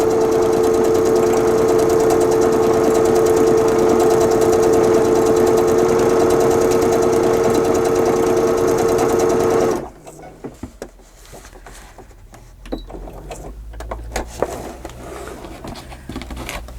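Sewing machine stitching a fabric journal cover, running steadily and loud for about ten seconds before stopping abruptly, followed by quieter scattered handling sounds.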